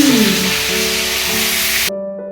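Mutton sizzling in a pan, a loud close hiss of frying with faint tonal hum underneath, cutting off abruptly near the end.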